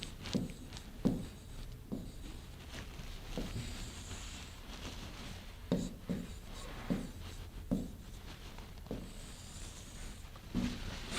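Pen strokes scratch across paper in short irregular bursts while numbers are written out during a reasoning puzzle, close and quiet with brief pauses between marks.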